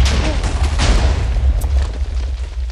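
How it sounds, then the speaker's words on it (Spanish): A bomb blast in the video game Minecraft, a loud dull boom rolling through a dense low rumble that lingers for the full stretch without fading. "¡Ay, escuché que alguien tiró una bomba!"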